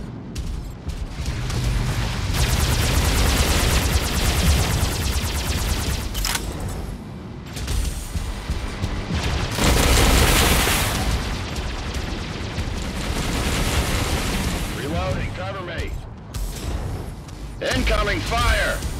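Mech Arena battle noise rumbles loud and almost unbroken as gunfire and booming explosions pile up, and a game voice calls out over the din now and then.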